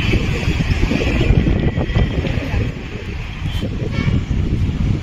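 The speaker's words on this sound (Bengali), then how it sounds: "হাওয়া প্রচণ্ড আছে, তাই হাওয়ার আওয়াজটা তো আসবে।" Strong sea wind at Kanyakumari buffets the microphone in a steady, loud low roar with gusty swells, filling the whole stretch without a break.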